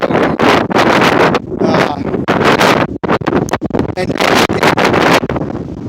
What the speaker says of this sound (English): The wind is kind of picked up.